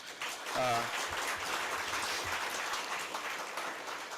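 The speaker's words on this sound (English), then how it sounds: "she deserves a big round of applause" An audience claps steadily, welcoming India's Union Finance Minister at an interactive session of a Bangalore branch gathering; a brief voice sounds near the start beneath the broadband applause.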